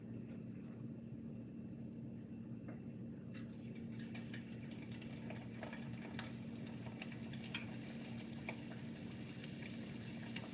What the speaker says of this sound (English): Let me fry them for you and see how it goes